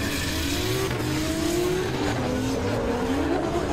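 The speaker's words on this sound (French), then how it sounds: "Jason qui envoie la BRZ avec Sylvain juste derrière qui va essayer de suivre" A Subaru BRZ drift car at a Pure Drift event runs at sustained high revs while its tyres squeal, with rising engine pitch and screeching rubber under a loud, dense roar from close by.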